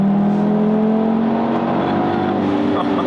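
Audi TT RS engine revving with a loud, steady drone, its pitch climbing gently across about three seconds, close by and heard alone.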